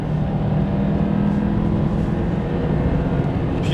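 Engine of an Alfa Romeo Sprint QV pulling hard, a steady loud low drone with a rising growl heard from inside the car, continuous throughout with no speech.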